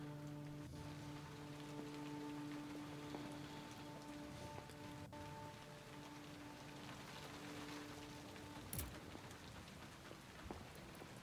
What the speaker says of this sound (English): will it stop raining just for a little bit?